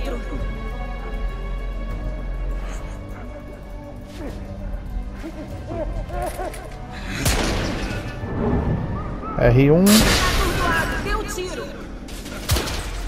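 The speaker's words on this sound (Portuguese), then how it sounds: "Deram uns tirozinhos aí." Gunfire and heavy booms ring out in the video game The Order 1886, scattered shots and impacts with a sharp crashing burst near the end, under a dubbed voice speaking throughout.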